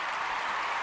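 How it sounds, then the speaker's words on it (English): Audience applause at a step show fills the moment, a steady, dense wash of clapping with no breaks, fairly loud and continuous throughout. "You better be applauding."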